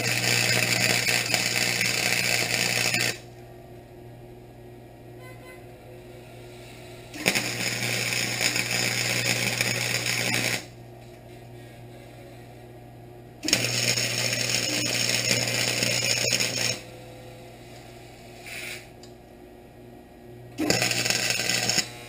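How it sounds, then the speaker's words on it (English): A cutoff wheel and flat grinding wheel cut and grind tack welds off a golf cart wheel hub, four loud sustained bursts of a few seconds each separated by quieter pauses. "taking the cutoff wheel and just snipping the tack welds, take a flat wheel, grind them flat"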